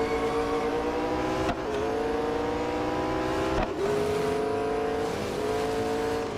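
Race car engines roar steadily in Real Racing 3 during an overtake, a continuous high-revving drone with shifting pitch, briefly dipping twice as gears change, loud and close with no talk.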